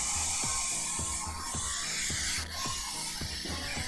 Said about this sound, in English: this thing's so loud. Oh, I can see through my blow dryer.